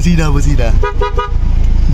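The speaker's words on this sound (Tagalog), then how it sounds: "Busina." A car horn honks in a few short blasts, loud and close, over engine noise inside a vehicle.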